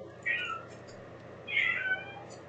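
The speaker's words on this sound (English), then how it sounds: "You heard my cat?" A house cat meows twice, each call short and clear against a quiet room, the second slightly longer than the first.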